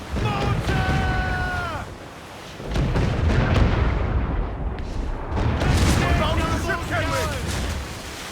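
Ship cannons fire in a naval battle in Assassin's Creed IV Black Flag, heavy booms rolling out amid shouted crew commands, with a sustained roar of battle noise and a lull in the middle.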